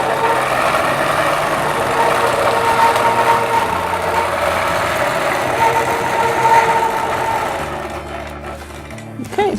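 A domestic sewing machine runs steadily through free-motion quilting, stitching curved cross-hatched lines a quarter inch apart with a guide. The loud, even motor whir and needle rattle continue for most of the clip, then ease off briefly near the end.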